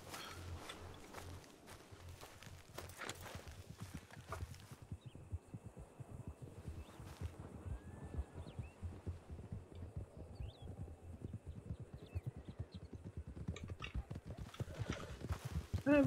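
Horse hooves clip-clop steadily in the RedM video game, a tamed horse walking at an even pace for the whole stretch, with faint game ambience and a whinny-like call in the background.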